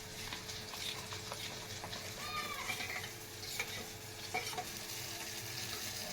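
A spoon stirs horse gram powder into tamarind juice in a pot, with continuous soft scraping and a faint sizzle close by, and occasional clinks running through the mixing.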